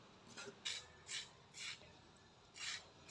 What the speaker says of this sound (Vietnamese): Khoai mỡ này mình dùng cái muỗng nạo.